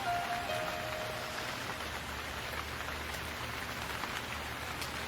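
Steady, even rain pours down throughout as a continuous soft hiss in a music video teaser, with no voices.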